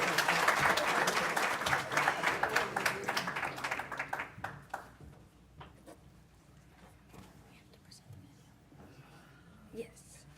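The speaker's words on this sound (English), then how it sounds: "let's give our graduates a round of applause." An audience claps for graduates at a powerline technician graduation ceremony, dense applause that thins out and fades after about four seconds, leaving room noise with scattered claps and faint voices.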